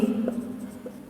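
Pen scratches on paper during a class 10 maths lesson, a few short, faint strokes over a steady background hum.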